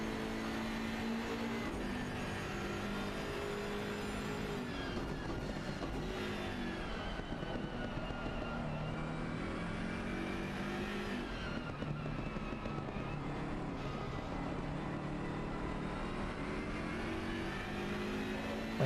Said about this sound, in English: Gearbox sounds more mechanical on the M6 though.